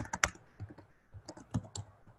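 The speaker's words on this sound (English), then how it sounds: "if I just start typing in" Typing an email address on a computer keyboard: quiet, close key clicks in uneven bursts, with a cluster of quick taps at the start and a few more spaced strokes after a short pause.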